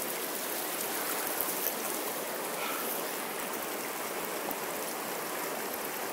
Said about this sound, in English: sitting in the middle of the Salmon River